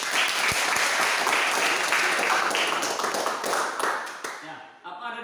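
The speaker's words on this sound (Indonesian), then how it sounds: "coba beri aplaus kepada kelompok 3" A classroom group of students claps for group 3 in a crowded burst of applause that stays dense and even for about four seconds, then thins out and fades.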